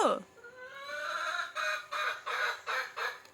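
Chickens cluck in a quick run of repeated calls close by, with a short voiced sound at the very start.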